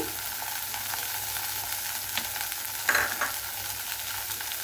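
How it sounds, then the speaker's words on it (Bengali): Garlic crackles in hot oil as a tempering for mung dal with bottle gourd, a continuous close sizzle broken by a couple of brief clinks and stirring sounds partway through. "আমি এখন ডালটা ফোড়ন দিব। আমি নিয়েছি বেশ কিছুটা রসুন, বড় একটা রসুন নিয়েছি।"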